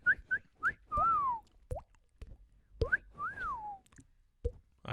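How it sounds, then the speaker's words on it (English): A person whistles a few short chirpy notes followed by longer sliding, swooping tones, with soft clicks and taps between them, close and fairly quiet with no talking. "Just whistle."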